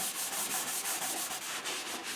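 Wooden Native American flute halves are rubbed together during construction, a close, scratchy sanding-like friction in quick repeated back-and-forth strokes, with no voices.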